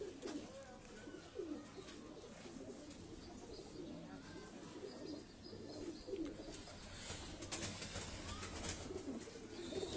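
Pigeons kept by a fancier coo softly and repeatedly, low throaty calls close by amid faint background noise and occasional talk.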